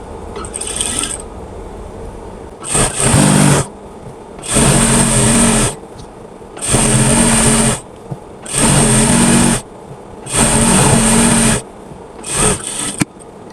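An electric sewing machine stitches a girl's child-size pants in short bursts, with about six loud whirring runs of rapid needle clatter separated by brief pauses.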